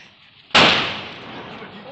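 A firecracker on a bamboo pole during Diwali goes off in a single sharp bang, loud and close, then trails off into a long rumbling echo and hiss.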